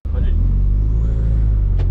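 A turbocharged Hyundai HB20 TGDI stage 2 car revving hard, a loud sustained heavy engine roar that starts abruptly and holds steady for about two seconds, close by.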